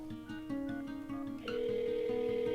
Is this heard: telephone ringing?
yes